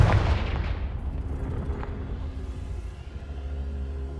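A Confringo fire spell going off in Hogwarts Legacy, a heavy booming blast with a deep rumble that starts loud and fades into a sustained low roar.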